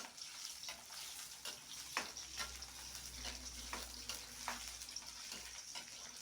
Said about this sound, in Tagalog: ilalagay na ho natin yung ating bawang, luya, sibuyas. Sabay-sabay na ho natin yan.